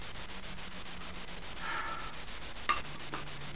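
Hardwood rubs against hardwood in a bow drill friction fire attempt, a close, steady scraping grind in back-and-forth strokes, with a sharp knock partway through.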